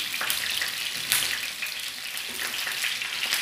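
Sardines fry in hot oil with a dense, continuous sizzle and crackle up close, steady throughout with small spitting bursts and no voices.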